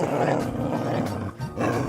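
A deep, rumbling roar of a big cat swells and fades twice, loud and close, with a brief dip between the two growls.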